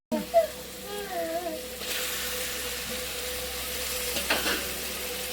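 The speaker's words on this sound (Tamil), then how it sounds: "நம்ம வெட்டி வச்ச கனவா இந்த எல்லாத்தையும் வந்து நம்ம இதில் ஆட் பண்ணிக்கலாம்." Cut squid added to a hot pan for a squid gravy, fried and stirred with a soft steady sizzle and a few scraping strokes, faint spoken sounds early on.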